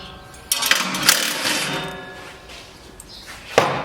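A ratchet wrench with a 1/2-inch socket works on lawn mower bolts, giving a few sharp close metallic clicks and knocks spaced across a short quiet stretch.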